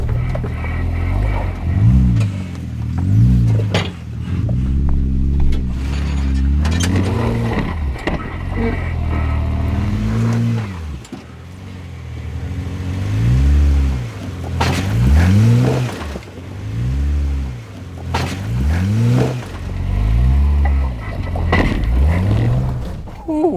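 An off-road vehicle's engine revs and labors in repeated surges while climbing over an obstacle, its underbody oil pan skid plate scraping against it, loud and close with brief dips between pushes.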